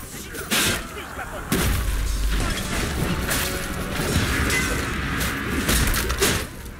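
Siege weapons fire in the medieval battle game Chivalry 2, with heavy launches and crashing impacts over a dense, loud battle din of clashing and shouting, including a big boom about one and a half seconds in.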